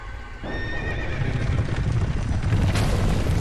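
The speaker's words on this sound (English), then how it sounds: "Horses." Horses neighing loudly in Dark Souls II, a sharp whinny rising over a rumbling bed of hooves and low booms.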